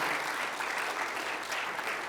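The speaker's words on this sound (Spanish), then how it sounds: "¿Cuántos le pueden dar un fuerte aplauso al Señor?" A church congregation claps together in a short, steady burst of applause, even and moderately loud with no voices over it.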